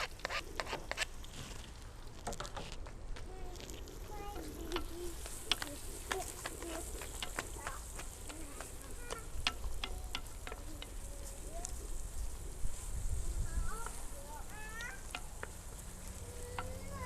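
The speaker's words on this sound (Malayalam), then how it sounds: "അപ്പോൾ നെയ്യെല്ലാം ചൂടായിട്ടുണ്ട്. നമ്മൾ ഉള്ളി കട്ട് ചെയ്ത് വെച്ചത് ഇട്ട് കൊടുക്കുക." Chopped onions frying in hot ghee in a pan for chicken ghee roast, a steady close sizzle with stirring scrapes and clinks throughout, no talk.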